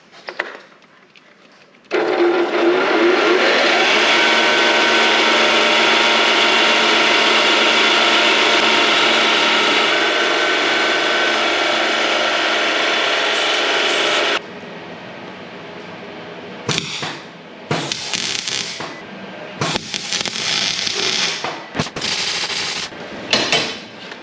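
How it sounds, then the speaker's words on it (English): A belt sander grinds a slope onto a small triangular steel wedge, a loud, steady abrasive whine holding for about twelve seconds before dropping to a lower idle with intermittent bursts of contact. "I might actually put a little slope on it back here. It'll help it, stop it from slipping out on Pádraig. We'll do that in the belt sander."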